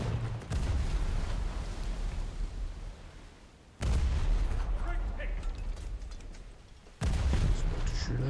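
Cannon fire in the War Thunder video game: heavy booming blasts mark the start and two abrupt jumps, each followed by dense rumbling combat noise, loud and close.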